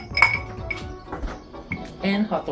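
An ice cube dropped into a chilled rocks glass while mixing a bourbon Old Fashioned, giving a few bright clinks and knocks of ice on glass close by.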